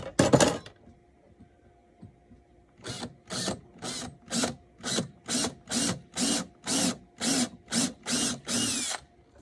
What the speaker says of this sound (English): Just drill the hole in the tiller